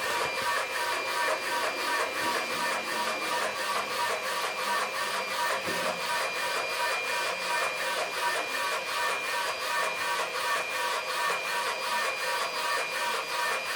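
An Obziy DP1 DTF printer and its roller run steadily with a fast, regular mechanical shuttling rhythm, a continuous whirring chatter that holds even throughout with no voices.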